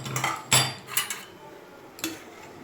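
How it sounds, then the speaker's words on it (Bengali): Metal clatter in a home kitchen as a lid comes off a pot of boiling water and fish goes in, with several sharp clanks and knocks, one loud near hit and softer taps after it. "এবারে ঢাকাটা খুলে মাছগুলো দিয়ে দেবো"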